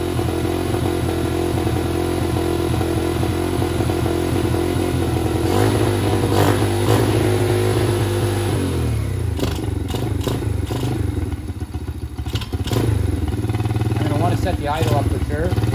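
Venom 125cc x20 motorcycle with a Nibbi carburetor runs at a high, steady idle with the choke on, a close, loud, continuous engine drone that shifts pitch partway through, with clicks and faint clatter over it.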